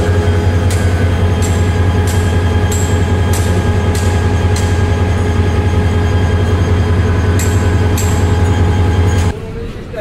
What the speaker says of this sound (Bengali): সকাল 10:04 ট্রেন ছেড়ে গেল কমলাপুর রেলওয়ে স্টেশন থেকে।